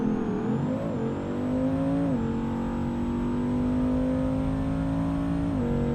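Race car in the BeamNG video game accelerating hard on a full 500-shot run, engine note climbing through gear changes with brief dips between shifts, loud, close and steady for several seconds.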